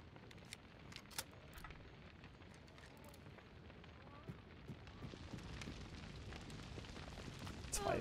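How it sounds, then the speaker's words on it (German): A loud fire burns in the video game Hunt: Showdown, with a steady, faint crackling roar and scattered pops that hold for several seconds without a break. "Alter, ist das Feuer laut?"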